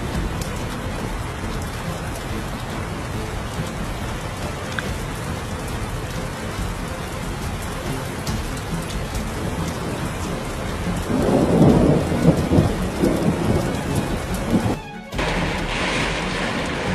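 Heavy rain pours steadily during a thunderstorm over flooded land in Jiangxi, China, with a rumble of thunder swelling midway before the downpour carries on, loud and close with no voices.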